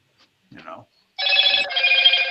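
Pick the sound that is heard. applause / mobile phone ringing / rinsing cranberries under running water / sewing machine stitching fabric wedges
mobile phone ringing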